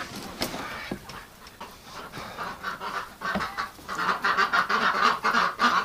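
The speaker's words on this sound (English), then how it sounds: "But the building's full of ducks." A flock of ducks packed inside a farm building quack and honk in overlapping, rising bursts, growing busier and louder toward the end.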